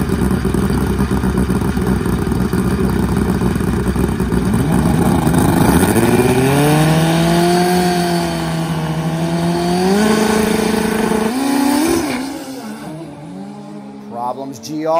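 Turbocharged drag motorcycles, including a DTM Turbo GS drag bike, launch and race down a drag strip, a loud sustained engine roar rising in pitch through the gears before cutting off near the end, under a busy crowd and announcer backdrop.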